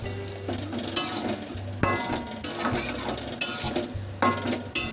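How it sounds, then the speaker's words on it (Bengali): Masala of green chilies and spices in a kadai, sprinkled with a little water and stirred, for a kohlrabi and potato curry with peas; a low, soft sizzle runs under repeated scraping strokes and sharp metal clinks of a spoon against the pan. "একটু সামান্য জল ছিট দিয়ে নেব যাতে মশলাটা পুড়ে না যায়"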